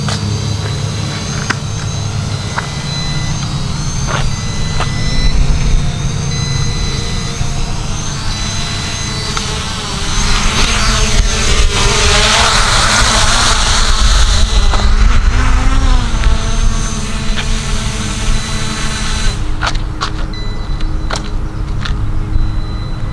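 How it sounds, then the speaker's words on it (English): An Exo Cinemaster II drone flies with a steady, loud whirring drone of its propellers that swells and shifts in pitch as it moves, holding close and continuous throughout with no talk. "This is the Exo drone. Cinemaster II, Exo Cinemaster II."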